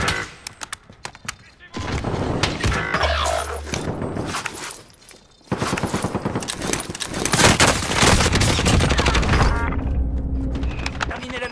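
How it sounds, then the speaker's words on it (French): Gunfire in Call of Duty Warzone with the AMP63 pistol and Grau rifle, loud bursts and rapid shots alongside in-game clatter and mechanical sounds, with voices talking over the action. "On tire dessus là."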